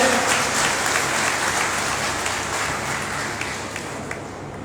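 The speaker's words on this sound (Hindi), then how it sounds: "एक जोरदार तालियों से अभिनंदन करते हैं" At a gathering of railway teachers and staff in Kanpur, an audience breaks into vigorous applause, a thick continuous clatter of many hands that slowly eases in intensity over a few seconds.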